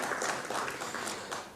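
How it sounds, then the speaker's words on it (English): Applause from a conference audience of chartered accountants at a capital markets event, a steady wash of many hands clapping at moderate, slightly distant volume with no voices over it. "Let's have a huge round of applause for Deven bhai."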